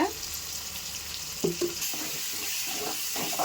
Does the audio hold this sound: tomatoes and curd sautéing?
yes